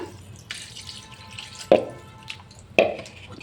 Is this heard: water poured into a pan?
yes